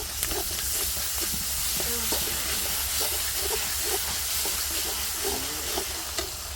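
Ginger paste sizzling in a hot pan, a constant loud frying hiss with small crackles and stirring clatter, close up, with faint voices in the background.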